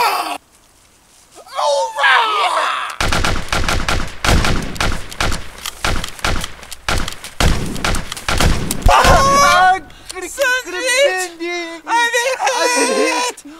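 Rapid bursts of gunfire from the video game Army Men: Sarge's Heroes, a dense crackling volley with thumps, loud and close, with voices and shouts in the game around it.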